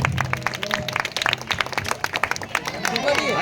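An audience at a Christmas gathering claps in a quick, uneven patter of many hands, moderately close, with a voice talking over it.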